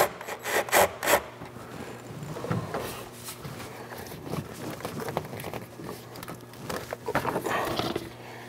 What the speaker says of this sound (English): we're going to go ahead and finish removing this intake tube here